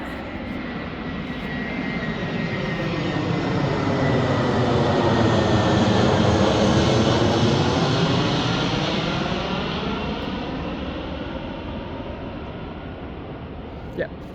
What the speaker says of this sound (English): Ah, these damn planes.